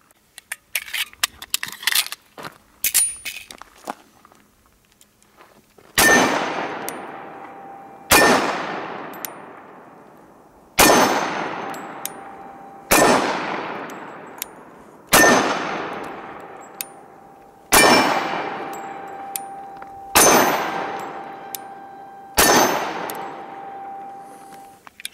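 A Sig Sauer Emperor Scorpion 1911 pistol fires at steel targets: after some scattered light clicks, eight loud evenly spaced shots ring out roughly every two seconds, each followed by a ringing metallic clang that fades away.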